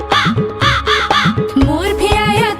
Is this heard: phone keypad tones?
no